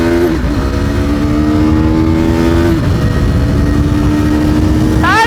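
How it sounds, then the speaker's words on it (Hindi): A 390 motorcycle pulls hard at full throttle to overtake on a road ride, its engine note rising and holding high over rushing wind, close and loud, ending with a sharp upward rev, with no talking. "गाइस अभी अली भाई को मैं करने वाला ओवरटेक"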